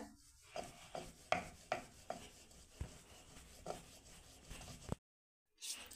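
Papad dough rolled thin with a rolling pin makes quiet, repeated rubbing and tapping strokes against the board in an even rhythm, then stops abruptly.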